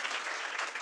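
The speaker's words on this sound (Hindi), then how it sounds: "ताली बजाइए इनके लिए।" A short burst of clapping from students at a class 9 and 10 general-knowledge quiz competition in a coaching centre, steady and fairly distant, with no talking.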